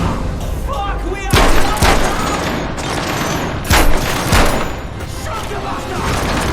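Heavy gunfire in the video game Metro Awakening: loud bursts of shots crack out near 1.3 s, 1.8 s, 3.7 s and 4.4 s over a dense, rumbling battle din, with voices shouting in the mix.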